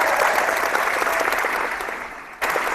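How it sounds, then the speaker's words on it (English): Round of applause on a basketball podcast livestream, dense steady clapping that gradually softens, then cuts abruptly and resumes near the end. "can we get a W in the chat in the live stream, and also a round of applause for the YouTube channels"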